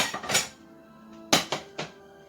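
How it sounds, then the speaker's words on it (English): Plates clink and clatter as one is pulled from a stack of dishes in a home kitchen: a few sharp ceramic knocks, close and bright, then quiet. "I need to grab a plate."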